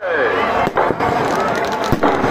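Fireworks and firecrackers burst at a Ravan Dahan celebration on Gandhi Maidan in Patna, a dense, loud barrage of cracks and bangs with sharp reports standing out, while a voice talks over the noise.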